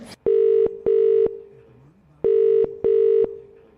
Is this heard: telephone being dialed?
yes